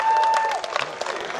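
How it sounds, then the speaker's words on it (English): Brief crowd applause at a horse race meeting, a short patter of distant clapping under a steady tone from the public address system, fading quickly. "Give them a big round of applause, ladies and gentlemen"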